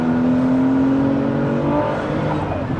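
A 700bhp Ruf CTR, a Porsche 911 with power and torque going to the rear wheels, accelerates hard with wheelspin, its engine note a loud, sustained rising drone held close for nearly three seconds.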